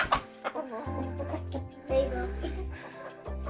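Silkie chickens cluck and murmur close by in short repeated bursts, with a low steady hum underneath and some faint background voices.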